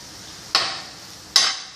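Egg puff masala being stirred in a pan, two short scraping strokes with a soft sizzle, each rising sharply and fading, close by with no talk.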